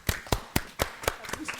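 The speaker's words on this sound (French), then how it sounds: "Des applaudissements nourris." Hands clap for a theatre troupe at a children's festival event, a few sharp, close, individually distinct claps in a fairly regular rhythm rather than a dense crowd wash.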